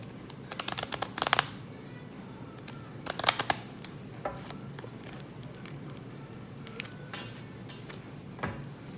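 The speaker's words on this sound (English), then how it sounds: "I have to shuffle them again." Tarot cards are shuffled in a few short, crisp riffling bursts, spaced apart over a quiet room hiss, with faint taps in between.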